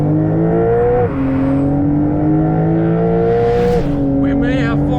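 A 2021 Porsche 911 Carrera GTS (992) with 480 horsepower is floored through a long corner at PEC Franciacorta race track. The engine howls loudly and climbs steadily in pitch, with two quick gear changes breaking the rising note.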